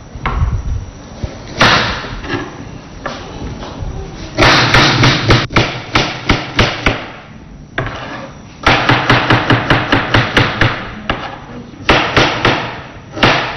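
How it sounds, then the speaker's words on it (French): Onions chopped with a knife on a wooden cutting board, loud close bursts of rapid rhythmic knocks separated by short pauses, with no talking. "je récupère mon plancher pour pouvoir découper mes oignons."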